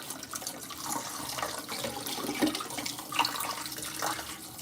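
Tap water runs steadily over canned beans being rinsed, a continuous splashing rush with small fluctuations, close and moderately loud with no talking.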